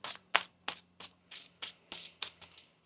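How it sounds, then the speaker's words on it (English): Tarot cards are shuffled by hand close up, in a steady series of about nine soft riffling bursts, each around a third of a second apart, over a faint low hum. "One more shuffle here."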